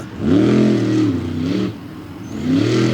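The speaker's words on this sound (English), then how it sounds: "For Saturday afternoon freestyle, and we'll open things up with Kurt Kramer in the Hall Brothers Racing General Tire Ram" A monster truck engine revving at a freestyle event in Bloomsburg, Pennsylvania, with loud, close roars that climb and fall twice, dip briefly, then rise again.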